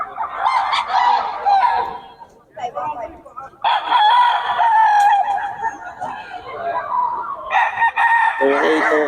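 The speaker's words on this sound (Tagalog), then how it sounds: "Okay lang mga idol ang manok ni Boss Chacha ngayon" Rooster crowing loudly and close, several long strained calls in succession with brief pauses between them, alone without talk.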